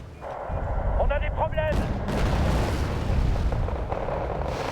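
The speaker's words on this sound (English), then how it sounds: "More artillery." Heavy artillery fire rumbles through a battle in the war strategy game Wargame: Red Dragon, a sustained booming roar with a brief tonal whine early on, loud and continuous throughout.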